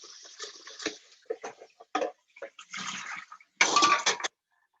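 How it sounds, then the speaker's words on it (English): Running water and clinking as a blender cup is rinsed in a kitchen, with bursts of splashing and rattling that come and go, close and moderately loud, and with no voices. "Just gonna give this a little rinse."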